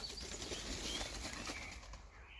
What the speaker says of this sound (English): It was just birds.